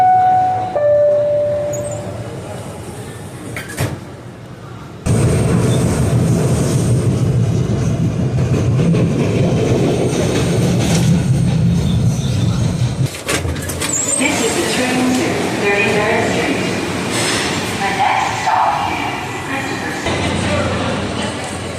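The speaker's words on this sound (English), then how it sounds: "Here's our train." An NJ Transit Bay Street shuttle train pulls into a station, a loud rumbling roar of wheels and motors that swells suddenly and holds steady with squeals and clatter.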